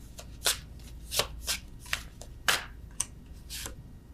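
Love oracle cards being shuffled, a quick series of crisp riffling snaps at uneven intervals, close and fairly quiet.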